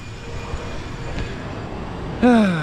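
A steady airplane engine drone rumbles overhead, joined near the end by a sudden loud tonal whine from a 2021 Sea-Doo RXT-X personal watercraft.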